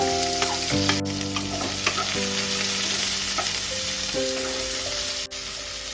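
Chopped onions sizzle steadily in hot goat fat in a pan for ghugni, a dense close frying hiss with occasional stirring scrapes and a soft tonal hum in the background.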